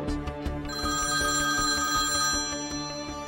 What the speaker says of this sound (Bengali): দুপুরে বাড়ির ল্যান্ড ফোনটা বেজে উঠল।